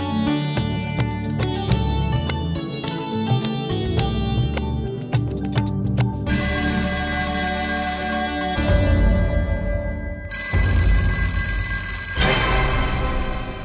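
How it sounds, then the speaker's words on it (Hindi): A mobile phone ringtone plays loudly on its own, a bright melodic pattern of repeating electronic notes. "ये फोन की आवाज कहाँ से आ रही है?"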